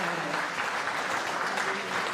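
Banquet audience applauding steadily at an alumni scholarship dinner, a dense, even roar of many hands clapping that fills the room for the full stretch without any voices on top.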